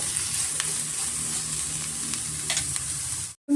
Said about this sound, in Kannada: ಸ್ವಲ್ಪ ನಾವು ಫ್ರೈ ಮಾಡ್ಕೊಳ್ಳೋಣ.